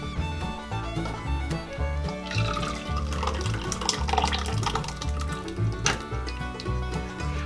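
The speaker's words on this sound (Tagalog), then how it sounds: "Ngayon po ay i-drain na po natin itong ating sago." Soaked sago tapioca pearls are drained, with water splashing and trickling steadily into a sink over background music.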